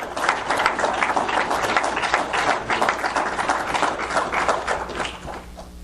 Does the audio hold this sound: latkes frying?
no